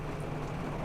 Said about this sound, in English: it's really hammering it down with rain now